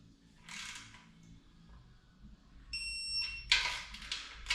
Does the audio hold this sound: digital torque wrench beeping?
yes